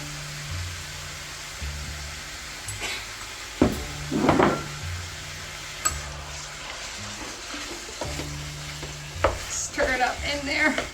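Seasoned ground beef fries in a pan, sizzling steadily while a spoon scrapes and stirs in several bursts, with occasional knocks against the pan over a low background hum.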